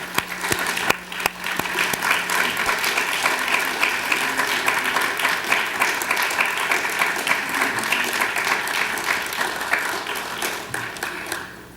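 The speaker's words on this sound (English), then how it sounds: "Let's give them a round of applause." A community awards ceremony audience applauds senior center volunteers, dense, sustained clapping from a large crowd that holds steady and loud throughout, fading slightly at the very end.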